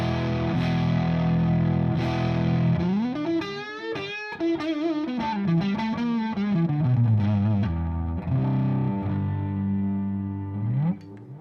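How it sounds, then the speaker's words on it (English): Electric guitar runs through a TC Electronic Mojo Mojo overdrive pedal with its voicing switch up, giving a thick, distorted tone: sustained chords followed by bending, sliding lead lines, loud and steady throughout. "I'll see what the voicing switch does by switching it to the up position"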